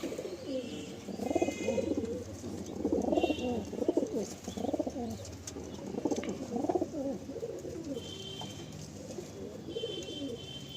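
A breeding pair of pigeons in a home loft coo steadily and fairly close, the low rolling calls overlapping through the whole stretch with faint higher chirps from other birds now and then.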